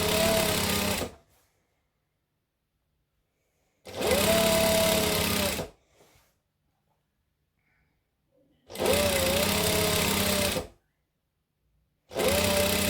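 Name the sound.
sewing machine stitching fabric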